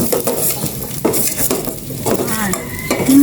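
Garlic sautéing in a pan for a home-cooked mussel dish, a steady sizzle broken by repeated scrapes and clinks of a utensil stirring against the pan, with a brief tonal squeak near the end.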